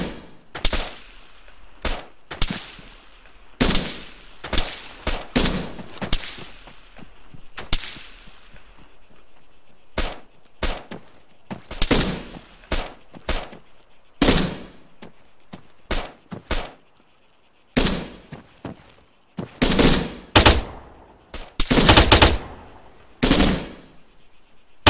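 Bursts of automatic gunfire and single rifle shots in the military shooter ArmA 3, loud sharp cracks in irregular clusters across the whole stretch, some rapid volleys and some isolated shots, with no talk.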